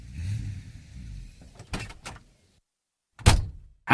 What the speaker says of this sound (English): Jack and Mary ran to open the door.